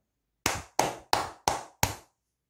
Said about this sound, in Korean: 박수 한번 치고 가도록 하겠습니다